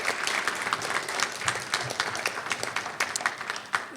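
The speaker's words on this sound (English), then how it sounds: "round of applause for this great accomplishment" A school board meeting audience gives a lively round of applause to honor a track and field team. The clapping is close, dense and sustained, with sharp individual claps standing out and a few faint voices underneath.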